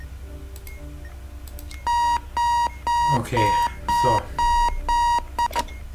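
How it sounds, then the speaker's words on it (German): An alarm clock in the bomb-defusal video game Keep Talking and Nobody Explodes rings in a series of about seven loud, evenly spaced electronic beep bursts, with a brief spoken remark and gameplay clicks underneath. "Ich muss den Wecker ändern."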